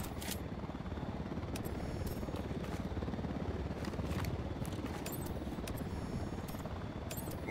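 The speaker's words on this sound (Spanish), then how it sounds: "Cuidado, se acerca un helicóptero al suelo." Helicopter approaching the ground near a truck in the video game Ghost Recon Wildlands: a faint, steady rotor and engine rumble holds throughout, with a few brief clicks over it.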